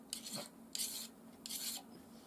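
A knife drawn across a banded jasper Viking whetstone in three quiet, even rasping strokes, each about a third of a second long, close up with no talking.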